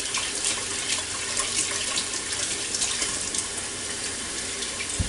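Red potatoes with thin skins are rinsed under a running kitchen faucet, a steady close hiss of water splashing into the sink throughout with no talking.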